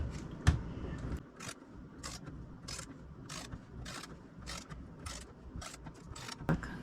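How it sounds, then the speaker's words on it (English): A torque wrench ratchets on the mounting plate bolts of a rooftop RV air conditioner, giving a series of faint, evenly spaced clicks with a small knock near the start, all without speech. "So what I need to do is 21 foot-pounds on the torque wrench."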